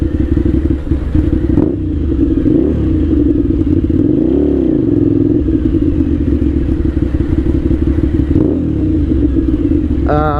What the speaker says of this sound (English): It's a 1000cc sport bike with 100 and some horsepower.